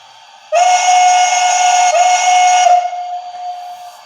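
Steam whistle from a BLI HO-scale PRR I1sa Paragon 4 model locomotive: one loud, sustained, steady whistle blast of about two seconds that then fades into a softer lingering tone, heard alone.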